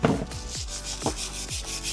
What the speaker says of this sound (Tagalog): Try ko munang i-wire brush.